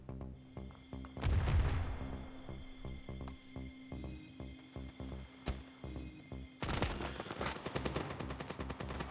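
Gunfire from the Standoff 2 mobile shooter game comes as sharp shots and quick bursts scattered across the clip. A louder cluster sounds early on and a dense volley near the end, all fairly quiet overall.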